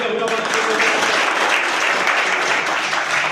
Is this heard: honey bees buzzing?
no